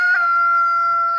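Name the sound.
chickens clucking and crowing in a garden plot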